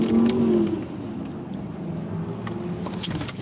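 A car with a broken muffler rumbles past at close range, its loud, rough low drone holding steady for a few seconds before easing slightly as it moves along.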